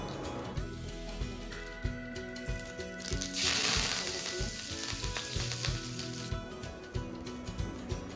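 Curry leaves hitting hot oil alongside turmeric and asafoetida for vada pav, a brief loud crackling spit that flares up then settles into a lighter sizzle amid faint background clatter, with no talk.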